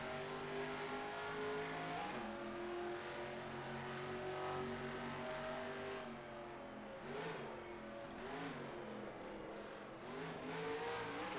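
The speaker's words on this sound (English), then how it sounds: "And get down to first there for a second, just to kind of get it some RPMs" A race car engine in a racing video game drones steadily during a practice lap, its pitch sliding up and down through shifts and revs, with a continuous, fairly even loudness and no talking.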